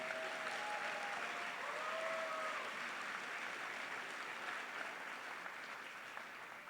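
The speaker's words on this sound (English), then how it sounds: "can we get a big round of applause for all of today's volunteers?" Sustained applause from a large crowd at an Illinois FTC robotics state championship opening ceremony, steady and even throughout, with faint brief tones drifting over it early on.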